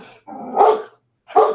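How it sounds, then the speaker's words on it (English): A dog barks in the background indoors, giving a drawn-out growly bark followed by a short sharp one, loud and close with silence in between. "Dog barking in the background."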